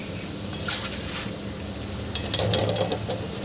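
Ingredients for puffed rice chivda frying in oil in a pan, a steady soft sizzle underneath with a few sharp scraping stir knocks clustered toward the end, close by.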